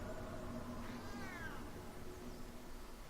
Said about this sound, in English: the cat should be down this hall.